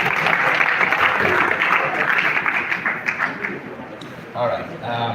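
Audience applause at a Directors Guild of Nigeria master class, a loud burst of massed clapping from a crowd that thins out toward the end, with a voice briefly heard over it.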